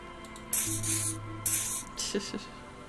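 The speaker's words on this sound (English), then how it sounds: "He douses you with the odd-smelling spray, a double helping as you present your other armpit" Spray from a can hisses in two long bursts onto the armpits in Disco Elysium, followed by shorter puffs, close and bright over quiet room tone with a faint low hum.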